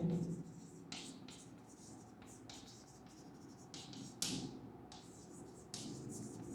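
Marker or chalk strokes on a board during an accounting lesson come as a series of short scratchy bursts, some louder than others, close by, with a low hum and a faint voice underneath.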